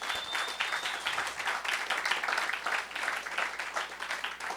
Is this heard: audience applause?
yes